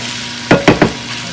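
Pork chicharrón pieces frying in a pan for pupusas, heard as three short, loud sizzling bursts in quick succession over a low steady background hiss, with no talk.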